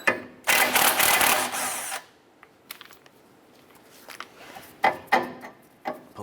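A power tool with a 19mm socket spins off a tie rod nut on a 2008-2012 Honda Accord in one loud two-second whir. Clanks and the clatter of handling parts follow.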